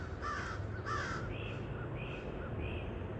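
Several crows caw in a loose series of harsh calls, louder at first then a few shorter, more distant-sounding caws, over a steady outdoor background.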